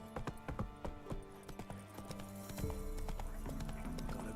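A horse gallops in the Witcher 3 video game, with rapid hollow hoofbeats and a neigh, loud and close, carrying on throughout with faint background voices.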